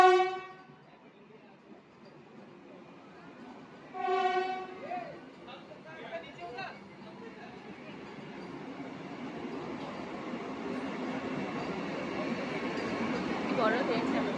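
A Vande Bharat express train sounds two horn blasts early on, then its rumble builds steadily as it passes, growing louder toward the end; a voice speaks briefly between the horns.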